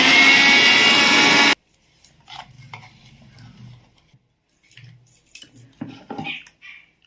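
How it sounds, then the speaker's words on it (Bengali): A mixer grinder whirs loudly, blending plain cake batter with a pinch of baking soda and warm milk, then cuts off after a short burst, leaving faint clinks and handling noises. "আর একবার এটা মিক্সিতে ঘুরিয়ে নেব"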